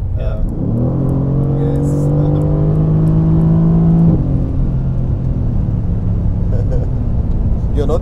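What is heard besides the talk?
Mercedes-AMG GT C engine revving while accelerating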